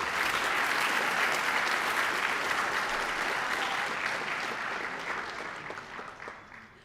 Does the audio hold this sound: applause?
yes